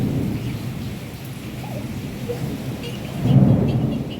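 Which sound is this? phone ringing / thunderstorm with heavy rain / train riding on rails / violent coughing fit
thunderstorm with heavy rain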